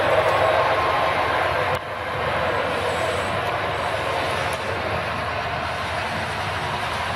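A small model train rolls along a mountain layout's single track, a steady moderate rumble with faint clicks, under soft background noise.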